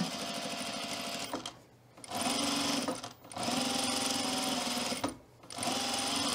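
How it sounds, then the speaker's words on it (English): Sewing machine edge stitching along a fabric edge, loud rapid whirring in three bursts separated by short pauses, close up with no talking. "then we can edge stitch this edge right here"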